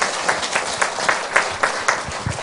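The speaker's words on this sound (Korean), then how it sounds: "박수로 해주십니다" A church congregation claps for mothers completing a five-week mothers' school at a graduation ceremony, with moderately loud applause that carries a loosely rhythmic, pulsing beat of accented claps throughout.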